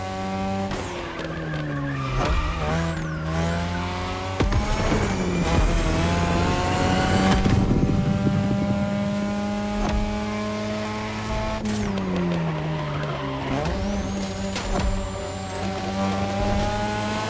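A third-generation 2002 Mazda RX-7 with a rotary engine races in The Crew Motorfest. The engine revs loud and steady and rises and falls in pitch through gear changes, with bursts of tire squeal and skidding. No one speaks.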